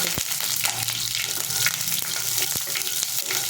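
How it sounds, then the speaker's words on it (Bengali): Mustard seeds frying in hot oil as a tempering for a Bengali katla fish curry with mango, a dense close sizzle with quick popping crackles and a couple of sharp taps. "সরষেটা একটু ভালো করে পুড়িয়ে নিতে হবে"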